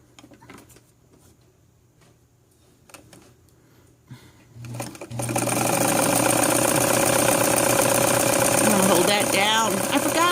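A sewing machine stitching in a circle for cutout fabric work. The first few seconds are nearly quiet with faint scattered sounds, then a loud, steady motor whir with rapid needle clatter sets in at about five seconds and runs to the end.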